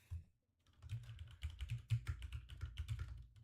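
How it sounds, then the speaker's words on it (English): Keys clatter on a computer keyboard in quick, irregular bursts, close and fairly quiet, with no talking, as trade details are typed into a trading platform. "I'm already typing that up."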